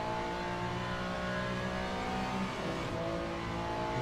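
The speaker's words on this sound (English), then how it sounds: "Here come the hypercars" Hypercars racing in the video game Le Mans Ultimate, a steady, dense engine drone with revving and tire noise as cars pass close by, continuous throughout with no talk.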